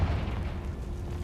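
A Confringo explosion spell in Hogwarts Legacy lands as a single short, muffled boom with a low rumbling burst that fades quickly.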